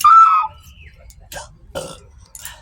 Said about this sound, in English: That's a hiccup burp.